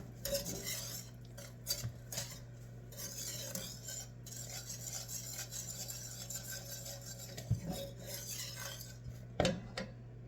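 Cauliflower au gratin being mixed in a bowl, utensil scraping and clinking against the dish in a steady, close stirring rhythm with a few sharper knocks, over a low constant hum.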